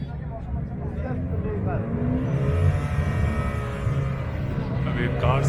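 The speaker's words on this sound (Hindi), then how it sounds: "अभी कार्स की रेस हो रही है।" Cars race at a motoring event with a Ferrari present, engines revving and whining past in a loud, continuous roar while people talk over the noise.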